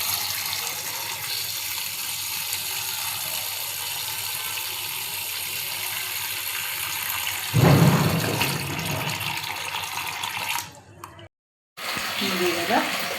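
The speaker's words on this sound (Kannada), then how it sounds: "ಇದನ್ನು ಇವಾಗ ಕ್ಲೀನಾಗಿ ತೊಳಿಬೇಕು, ಯಾಕಂದರೆ ಅದರಲ್ಲಿ ಸ್ವಲ್ಪ ಮರಳಿರುತ್ತೆ." Cut clams being rinsed in water to wash out sand, a steady running-water wash with a louder splashing burst partway through and a brief drop to silence near the end.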